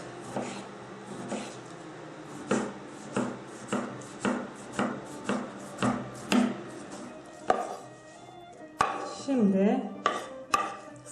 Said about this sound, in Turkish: Domatesimizi kabuklu olarak ince bir şekilde doğruyoruz.